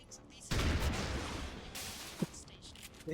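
Shotgun fire in XCOM Long War of the Chosen: a loud, close blast opening into a dense crackling volley that fades out, with a sharper hit near the end and a voice talking.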